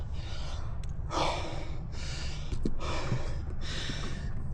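A mountain biker on a flow trail breathes heavily while catching breath: four or five loud, close, rhythmic gasping exhalations about a second apart over steady low outdoor rumble.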